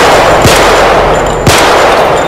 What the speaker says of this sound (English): the two bangers take aim and start to fire.